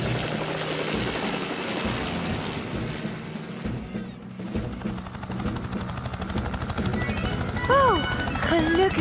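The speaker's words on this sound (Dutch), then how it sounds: "Tom gaat er naartoe met de helikopter." A rescue helicopter in a cartoon whirs steadily with a continuous rotor drone throughout, joined by music and cartoon voices speaking, with whooping sound effects near the end.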